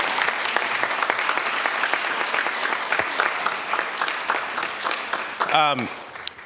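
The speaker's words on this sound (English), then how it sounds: "let's give all the students and the teachers and everybody another big round of applause" A room full of people at a Hayward city council meeting applauds students and teachers, brisk clapping with a voice breaking in near the end.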